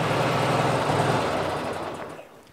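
A Craftsman LT1000 lawn tractor with a Briggs opposed twin engine runs steadily nearby, a dense even roar that fades as it winds down near the end.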